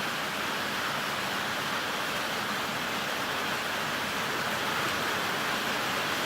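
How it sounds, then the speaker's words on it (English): Rain falls steadily outdoors beside an '84 Mazda RX-7 under repair, a dense, even hiss of drops that stays constant and fairly loud throughout with no pauses. "Where the heck did this rain come from?"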